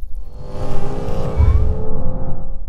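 A BMW M2 drives on a race track, its engine droning and revving from inside the cabin, loud and close with the pitch rising and falling over a few seconds.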